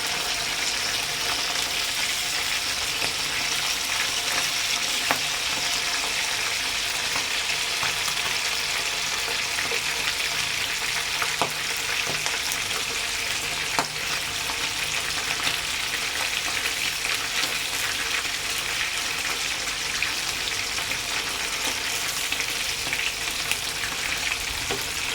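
Fish frying in a pan, a steady dense sizzle that holds close and fairly loud throughout, with occasional faint scrapes as pieces are turned; no voices.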